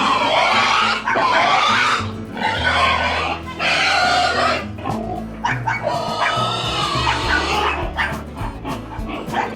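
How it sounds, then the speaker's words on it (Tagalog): Pigs at a rural farmyard in Batangas squeal and grunt in loud, repeated outbursts, with a dog-like yelping quality and a low rumble of activity underneath. "nagkakahilahan na uli ng baboy"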